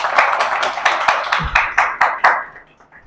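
Sharp, close hand claps in a quick even rhythm, about a dozen of them, tapering off and fading near the end.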